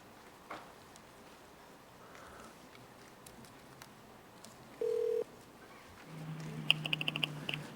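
Telephone dialing tones as a caller rings back into a public assembly meeting: a short steady beep near the middle, then a quick run of dial-tone and keypad tones at the end over a faint room hum.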